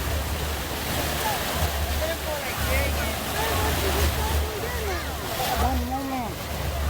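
Ocean waves wash steadily at a Hawaii beach, a continuous broad roar with low rumble, while people talk faintly in the background.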